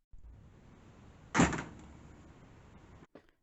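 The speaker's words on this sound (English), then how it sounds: "the front door" A front door gives a single sharp bump or latch thud partway through, set against a faint steady room hiss, followed by a soft brief knock near the end.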